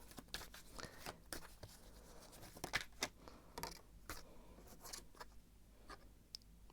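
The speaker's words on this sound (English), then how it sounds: "I'm going to shuffle some more" Tarot cards being shuffled by hand at close range, a string of quick soft riffling and tapping bursts with pauses between them, no voices.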